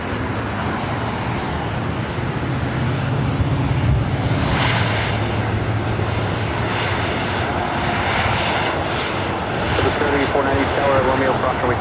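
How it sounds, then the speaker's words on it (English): Delta Airlines Boeing 737-800 jet taking off at LAX, a loud, continuous engine roar with rising whine that swells and holds across the runway, with radio voices talking over it. "Delta Airlines Flight 1466 heading to Las Vegas, the 737-800."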